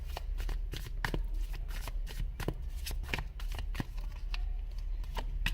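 Tarot cards are shuffled repeatedly by hand, a continuous run of crisp riffling and flicking sounds at close range.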